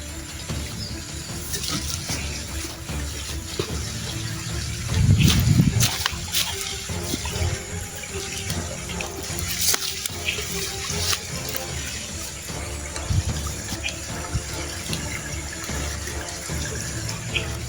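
Steady gurgling flow of a small stream in hilly terrain, heard close and continuous, with a brief louder splash about five seconds in.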